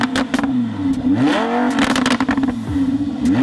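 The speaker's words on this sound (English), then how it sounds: "What the fuck is that noise? That's a Lambo for sure." A Lamborghini engine revs loudly and close by, rising and falling in pitch through several throttle blips with some crackle between them.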